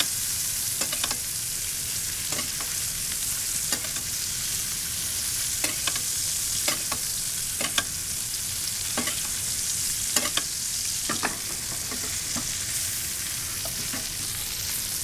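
Steak sears in a hot pan with garlic butter, giving a continuous loud sizzle and hiss broken by brief scraping clicks as it is moved or basted, with no voices.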